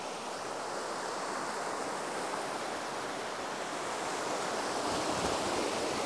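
Water pouring into the intake channel of a traditional stone flour mill, a steady, full rushing wash with no pauses, close and fairly loud throughout.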